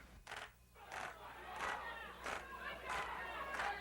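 An unruly crowd jeering and chanting inside City Hall, massed voices swelling in repeated rhythmic surges, loud and reverberant with overlapping shouts.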